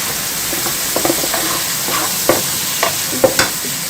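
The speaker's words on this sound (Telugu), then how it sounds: "బాగా డీప్ రోస్ట్ అయ్యేంత వరకు చేస్తున్నారు." Prawn curry masala being stirred and deep-roasted in a pan, a steady sizzle with scattered scraping clicks from the spoon, close and alone without talk.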